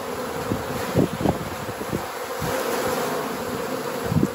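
Honeybees swarm around an open hive while a two-queen hive is being set up on a warm day, a close, steady, dense buzzing with occasional louder passes of single bees near the listener.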